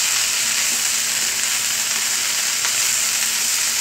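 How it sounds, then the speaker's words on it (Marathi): Chopped onions fry in oil for a cauliflower (gobi) bhaji after a mustard and cumin tempering, giving a steady, dense sizzle that holds evenly throughout at close range with no talking. "कांद्याच्या सॉफ्टनेसबरोबर व्यवस्थित याला तेलामध्ये छान परतवून घेणार आहोत"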